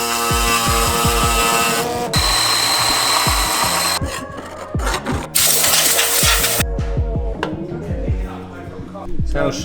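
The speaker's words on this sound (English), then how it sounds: "Big wobbly saw. Let's do some cutting." A hand saw held in a vice rasps back and forth through an intercooler pipe for a GT86 SR20 turbo project, loud, close, rhythmic strokes in quick succession with brief pauses between runs.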